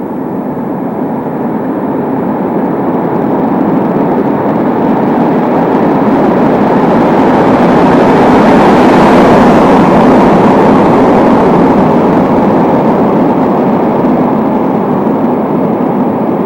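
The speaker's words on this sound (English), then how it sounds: "And the noise when a car approaches." A car approaches a cyclist on a steep road on the way to North Cape, its broad engine and tyre roar swelling to a loud peak near the middle and then easing away, steady and without voices.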